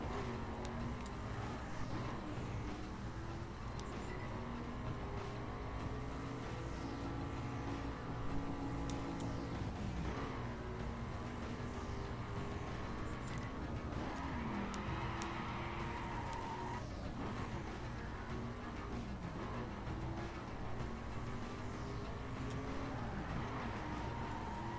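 Engines roar steadily through a dirt race in a driving video game, with shifting revs, acceleration swells and occasional skids, sustained and loud throughout.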